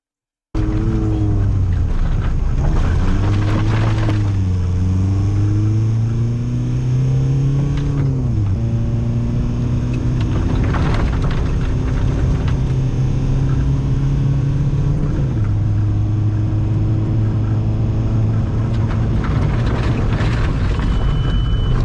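A car engine revs steadily in a driving video game, rising and falling through gear changes with a continuous droning rumble, close and loud throughout, with occasional brief bumps.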